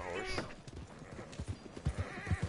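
A horse in the Western video game Red Dead Redemption 2 gives a brief whinny at the start, then its hooves clip-clop in a steady, fairly close rhythm of thudding steps.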